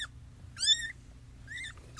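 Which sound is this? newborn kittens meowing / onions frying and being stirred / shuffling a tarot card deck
newborn kittens meowing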